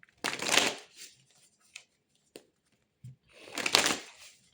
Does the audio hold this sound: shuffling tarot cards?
yes